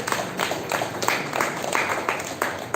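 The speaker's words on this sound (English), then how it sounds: "Give her a huge round of applause." Applause for a scholarship recipient at a school Republic Day ceremony: a moderate crowd claps steadily throughout, sounding somewhat distant in a hall.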